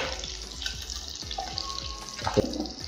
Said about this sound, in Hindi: आप देख सकते हैं फ़िश हमारी, ये देखें कितने अच्छे से फ्राई हो रही है।